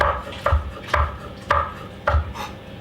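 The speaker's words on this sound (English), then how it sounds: "I'm just going to use one of these older lemons, and it's just going to be roughly chopped" A knife roughly chops an old lemon on a cutting board in five evenly spaced thuds, each with a crisp cut. The chopping is close and clear, with no talking.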